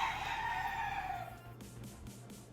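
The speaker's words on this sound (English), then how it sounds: "I might as well just bring one and just, you know, show you the roosters instead." Roosters crow nearby in a short, loud call that tails off, followed by a few quieter clucks and rustling from the flock.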